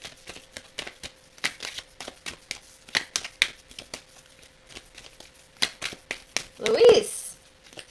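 Cards from an illustrated bestiary oracle deck riffle and flick in a quick, uneven series of crisp snaps, close and light, building to a louder burst near the end.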